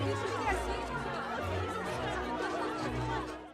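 A crowd at a chess tournament murmurs in a continuous low babble of overlapping voices, with brief bursts of light laughter.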